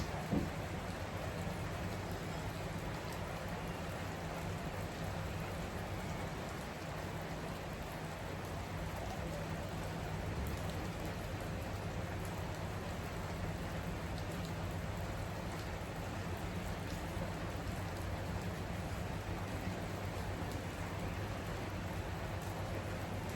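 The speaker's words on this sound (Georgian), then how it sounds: "ზუსტად ისე ლამაზად და მშვენივრად წვიმს, როგორც მე მიყვარს." Steady rain falls continuously as an even, soft hiss with faint patter, unchanging throughout and with no voices.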